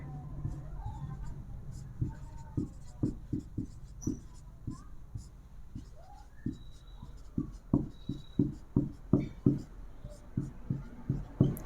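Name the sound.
writing on a board during a lesson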